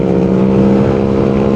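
Loud Yamaha Aerox scooter engine drones close by with a steady, strong hum, holding its level without break.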